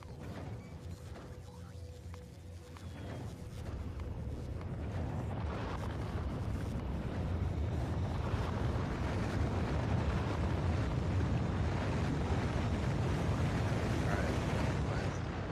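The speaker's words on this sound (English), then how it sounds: "Launching 8 rockets at once and then just watching them all just go is really satisfying." Several rockets launch at once in Factorio: Space Age, a deep rumbling roar that swells after a few seconds and then holds steady and loud, with faint voice underneath.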